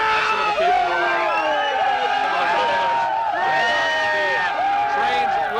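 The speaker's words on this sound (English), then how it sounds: "This is some of the crowd that is heading back from Times Square." A crowd of travelers moving through Penn Station after leaving Times Square on New Year's Eve, a busy hubbub of many overlapping voices with occasional whoops and calls, steady and close throughout.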